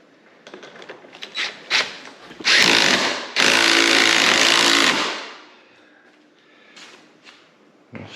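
Impact wrench with a 10mm socket on an extension working a bolt on a Can-Am Maverick X3 front shock tower, with two loud sustained rattling bursts after a few short clicks and knocks, close up.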